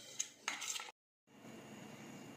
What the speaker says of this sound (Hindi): इन ड्राई फ्रूट्स को हम मेल्टेड चॉकलेट में डालेंगे और अच्छे से मिक्स करेंगे।